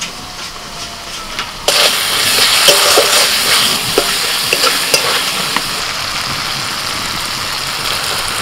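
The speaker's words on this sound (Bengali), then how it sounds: "এবার দিয়ে দিচ্ছি কিছু টমেটো কুচি।" Chopped tomatoes drop into a pan of spice masala with red chilli powder and a little water, setting off a loud, steady sizzle that holds over the rest of the clip, with faint scraping of a spatula.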